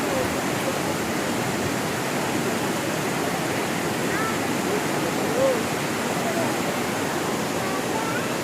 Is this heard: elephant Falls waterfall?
yes